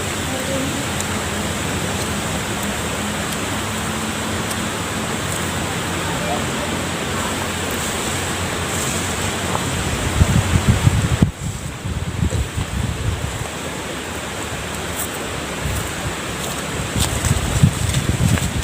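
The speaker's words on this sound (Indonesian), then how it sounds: "Soalnya anginnya kenceng" Strong wind blowing outdoors at a fishing spot, a constant rushing roar buffeting the microphone, with heavier gusts and thumps toward the end.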